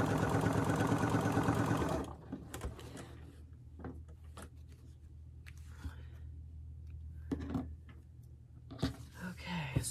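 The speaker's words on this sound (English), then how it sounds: "We'll sew this up." A domestic sewing machine runs steadily while stitching a quilt seam with batik fabric, loud and close for about two seconds before it stops, leaving quiet handling clicks and soft bumps.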